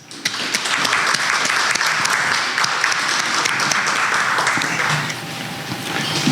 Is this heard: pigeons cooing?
no